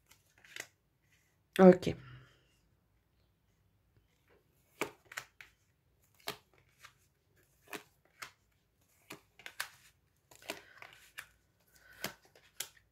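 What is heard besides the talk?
cutting a deck of tarot cards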